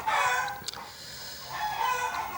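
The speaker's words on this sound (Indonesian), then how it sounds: "itu suara berisik ayam ya, ayam tetangga" A neighbour's chicken clucks and crows at a distance, a strained drawn-out call that rises, dips and swells again, faint against a steady background hum, with no voices.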